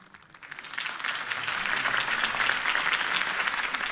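A crowd cheers and claps in steady, dense applause after a campaign speech in Batman: The Telltale Series, rising after a quiet start and holding loud throughout.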